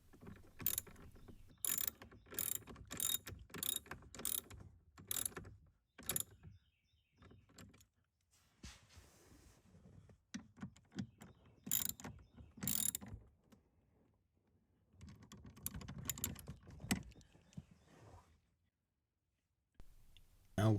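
Screws are tightened on the glove box of an Alfa Romeo Giulia with a hand ratchet. Quiet, quick clicking bursts come up close, separated by pauses and soft handling noise.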